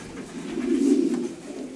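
Pedigree racing pigeons give a single soft, low coo, close and clear against a quiet background.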